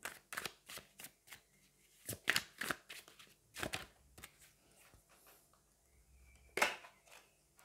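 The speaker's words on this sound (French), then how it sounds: "on va aller prendre 4 autres cartes pour venir compléter un petit peu chacune des cartes qu'on a sorties" Tarot cards are shuffled and drawn in a quiet room, giving a run of crisp, close riffles and slaps in irregular bursts with soft pauses between them.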